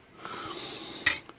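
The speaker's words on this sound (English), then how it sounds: "Just going to go ahead and take another whisk here." A whisk scrapes and clinks through flour in a bowl, a steady close scratching swirl that ends in a few sharper metallic taps against the rim.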